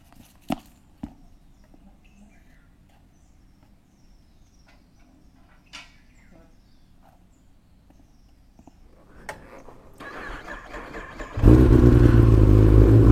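A superbike with a weak battery is started after a quiet stretch with a few clicks and knocks. The starter strains, then the engine catches and settles into a loud, steady idle close by.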